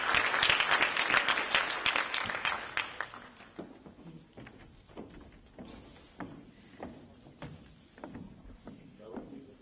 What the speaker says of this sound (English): please, if you could give them a round of applause